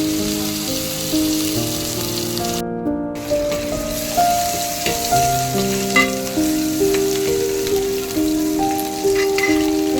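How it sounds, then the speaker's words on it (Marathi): Onions and curry leaves sizzle and crackle in about two spoons of hot oil for a Malvani fish curry, a dense steady frying hiss, while faint tones hum in the background. "कांदा व्यवस्थित फ्राय व्हायला द्यायचा"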